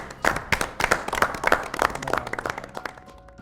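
An audience at a history quiz show breaks into brisk, dense clapping for the competing teams, a close burst of applause that thins out and fades toward the end.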